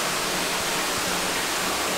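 Loud, even rushing of water flowing inside an indoor hot spring building, a dense hiss like a small waterfall that holds unbroken throughout.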